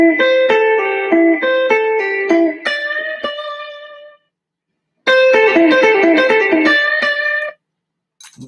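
An electric guitar lick played through effects rings out as a bright run of repeated melodic notes with a processed, chorused tone, breaks into silence, then returns with a second phrase before stopping.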